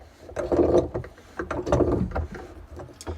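Pliers tighten a plumbing fitting in short bursts of close metallic clicking and grinding, with brief pauses between turns.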